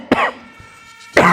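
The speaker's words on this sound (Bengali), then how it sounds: "কাশি দিচ্ছ কেন?" Two short, harsh coughs from a person, one at the start and another just over a second later, close and loud with a quiet pause between.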